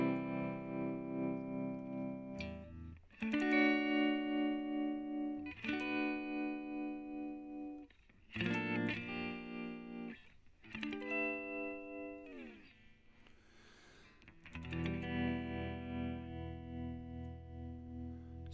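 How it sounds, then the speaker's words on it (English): Electric guitar through an iOS amp sim with tremolo engaged, playing sustained chords and single notes that pulse in volume, clean and close with no talk. "if we flick across again, we get a nice tremolo."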